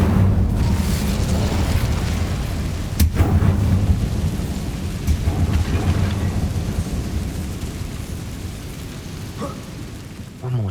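Incendio fire spell cast in Hogwarts Legacy, a loud roaring burst with a sharp crack near the start, then a sustained rumbling whoosh of flames fading slowly over about ten seconds.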